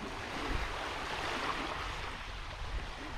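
Steady broadband wash of sea waves at the shore of Ninh Vân, a continuous rolling surf with no distinct breaks, close and fairly loud, with no voices.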